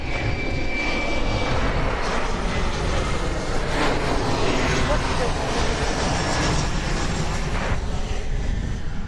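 A loud, steady airliner engine roar fills the whole stretch, broad and rumbling as the aircraft passes close overhead on approach to DFW Airport.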